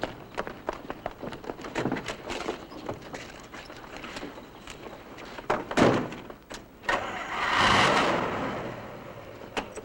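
A car in a 1962 feature film: a series of clicks and knocks, then the engine catches and rises into a swelling rumble as the car pulls away, heard close and moderately loud.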